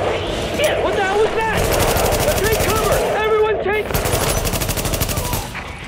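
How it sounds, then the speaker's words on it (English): Heavy automatic gunfire rattles in rapid bursts during a firefight in The Division video game, loud and close, with a voice talking over the shooting. "We're taking heavy fire"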